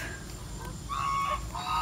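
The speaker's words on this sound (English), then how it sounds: "So here we have two male geese" Two male geese honk close by in a farmyard, harsh nasal calls starting partway through and repeating in short bursts over low background noise.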